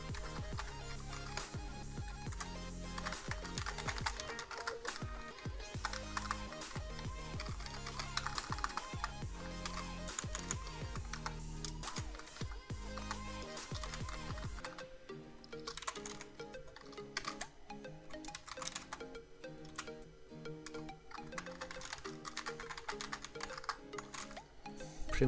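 Steady, busy keyboard typing, likely a computer keyboard, as a terminal command is entered; dense clicks run continuously for the whole stretch over a constant layer of background sound.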